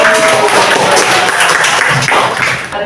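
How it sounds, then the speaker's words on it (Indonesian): Loud applause from a classroom audience after a group presentation in a teacher-training program, a close, dense burst of clapping lasting a few seconds. "Tepuk tangan sekali lagi."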